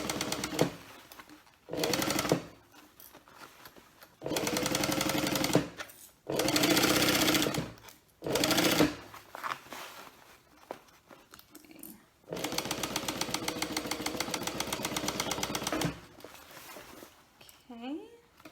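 A sewing machine sewing a bag runs in several close, steady whirring bursts, one long run near the end, with short stops, handling noises and a person talking between bursts.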